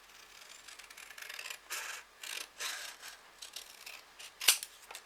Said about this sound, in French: Et je vais couper la diagonale.